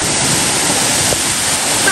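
A village waterfall pours in a steady, close broadband rush, loud and unbroken from start to finish with no voices over it.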